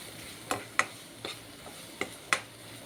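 Rasam ingredients sautéing in a pan, a faint background sizzle broken by five or six soft clicks and taps of stirring spaced across the clip, with no talking.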